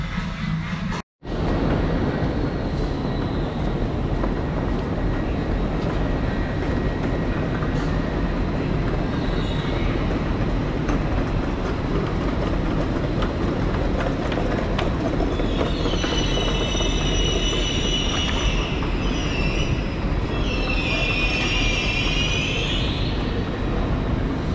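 A Class 801 train passes through a station in Edinburgh, a steady loud rumble of wheels and traction under constant broadband noise, with bright whining and squealing tones rising near the end; no talking.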